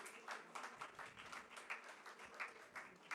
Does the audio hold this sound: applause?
yes